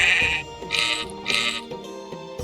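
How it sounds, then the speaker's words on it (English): Sheep bleats from the strategy game Becastled, triggered by clicking on the animals: three short, nasal bleats in quick succession, clear and close with no talking over them. "I guess only the sheep have this sound right now."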